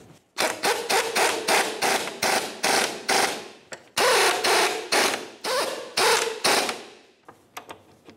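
Strut mount nuts being snugged up on a 2009-2010 Pontiac Vibe rear strut: a quick, even run of loud ratchet clicks in bursts, pausing briefly, then more ratcheting that trails off into a few lighter clicks.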